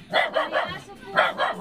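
A dog barks in quick short bursts, a few sharp yaps in a row, then a pause, then another pair, fairly close.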